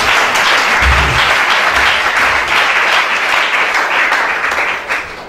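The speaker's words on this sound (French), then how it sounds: "Acclame bien, acclame bien." Church congregation applauding loudly and steadily, a dense wash of clapping that holds for several seconds and starts to thin out at the very end.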